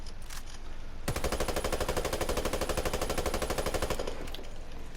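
Sustained automatic rifle fire from a video game, a dense rapid burst running about three seconds with steady rhythm, loud and close, with quieter game ambience before and after.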